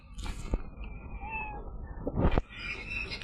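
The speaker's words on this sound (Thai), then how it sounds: "นี่แมว นี่" A cat meowing in a video game, a couple of clear, close meows with a louder, drawn-out cry near the end over a soft background.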